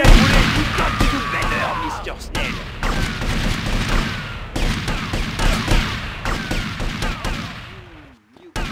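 Gunfire from a mall shootout in GTA Vice City Definitive Edition keeps up a dense, steady barrage of shots and booms for most of the stretch, with voices shouting over the fight, then drops out sharply near the end.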